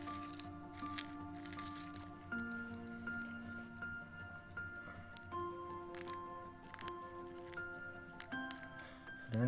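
Soft, close squishing and crunching as eggshell is crushed and mixed into bird egg food, in quiet irregular bursts over a low steady hum, with no talking.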